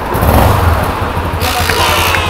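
A new motorcycle engine catching after a single kick start, a loud close rumbling idle that runs steadily throughout, with brief mechanical ticks over the top.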